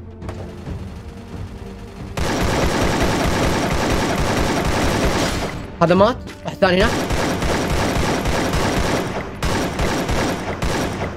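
Dense, continuous bursts of gunfire in the video game Free Fire fill most of the clip, with a brief lull midway and someone speaking over the shooting.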